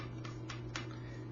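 Three short, dead, clicking guitar plucks from strings palm muted too heavily, evenly spaced and close, with a steady low hum underneath.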